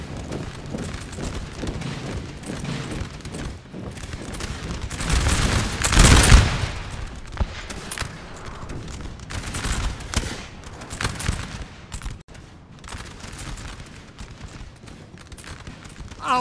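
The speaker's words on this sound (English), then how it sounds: "they're actually getting hit hard by artillery." Artillery booms and volleys of musket fire in Napoleon Total War, recreating the 1792 Battle of Valmy: dense crackling gunfire with irregular sharp reports, a heavy blast swelling near the middle, and more scattered shots trailing off afterward.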